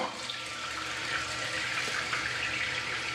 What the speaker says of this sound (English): So now we wait for the toilet to fill.